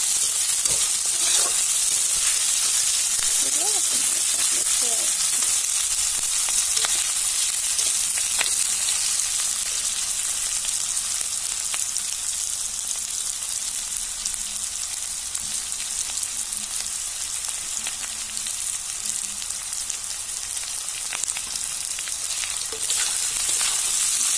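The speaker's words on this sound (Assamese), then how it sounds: "আদা ভাজা হৈয়ে গ'ল। তথাপিও আৰু অলপমান ভাজি আছোঁ" Ginger frying in hot oil in a home kitchen pan, a steady, loud, close sizzle that hisses on without pause, with occasional light scraping from stirring.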